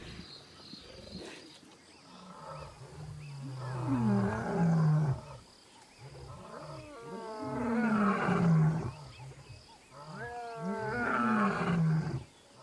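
Male lions roar and growl repeatedly over a kill in the wild, deep rumbling calls rising and falling in three long bouts, close and loud, with insects chirping faintly behind.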